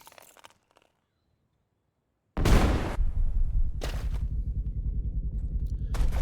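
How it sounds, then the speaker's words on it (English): A frag grenade bursts in ARMA 3 after a near-silent pause, a sudden loud boom that leaves a sustained low rumble with two more sharp blasts or shots cutting through it. "I throw a frag in."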